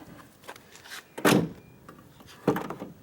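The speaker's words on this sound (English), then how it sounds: "let me shut this door" A door is pushed shut indoors during an electrical parasitic load test, giving a sharp thud, followed about a second later by a second closing knock, with faint handling noises in between.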